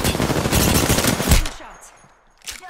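Rapid automatic gunfire in Apex Legends bursts loudly and close for about a second and a half, then cuts off, followed by quieter game effects and a brief final burst.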